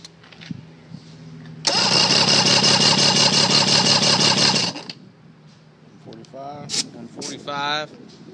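A 1986 car engine cranks over during a compression check, a loud, steady, rapid churning that lasts about three seconds and then stops, followed by someone talking.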